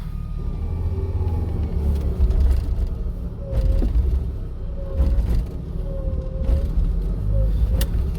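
An off-road vehicle engine rumbles low and steady while driving through snow, with swells of throttle and faint creaks, heard from close by inside the vehicle, with a voice speaking briefly.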